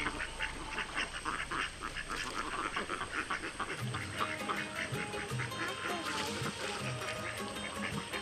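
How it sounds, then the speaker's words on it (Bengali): Ducks quack repeatedly outdoors beside flowing water. The calls are fairly close and come in uneven bursts over a constant watery background. "এই দেখুন, এখানে আমাদের হাঁসও চলে আসছে।"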